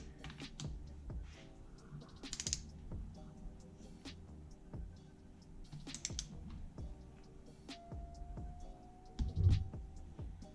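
Torque wrench tightening the cylinder head nuts on a Honda CR250R two-stroke dirt bike engine top end, stepped up from 10 to 18 foot-pounds: a steady run of light, close ratcheting clicks with a sharper burst near the end.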